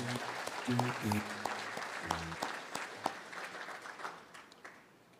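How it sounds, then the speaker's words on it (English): A crowd at a National Heroes Day celebration on the Sister Islands claps for the speakers, the applause moderately loud and fading toward the end, with a voice talking over it early on. "another big hand of applause for all our speakers thus far this afternoon"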